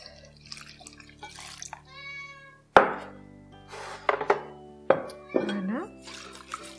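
Almond milk poured into vegan hazelnut muffin batter and stirred, with soft trickling and a few sharp knocks of a utensil against the bowl, spaced out and fairly quiet under a bit of speech.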